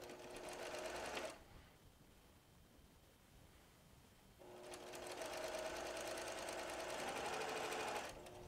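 A sewing machine stitches quilt block pieces for a log cabin wild goose block in two steady, close runs, separated by a few quiet seconds.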